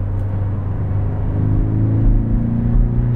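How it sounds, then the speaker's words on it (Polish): Porsche 718 Cayman 2.0 flat-four boxer engine exhaust held at raised revs: a loud, deep, steady rumbling drone with strong low harmonics, swelling slightly midway without sharp blips. "ten wydech nawet zaczyna inaczej brzmieć"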